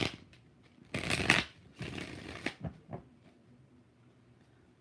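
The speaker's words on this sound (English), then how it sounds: "All right, let's do this deck. 5 shuffles for Lily and Hector." A tarot card deck shuffled by hand in a few quick riffling bursts, close and crisp, with soft card handling between them in a quiet room.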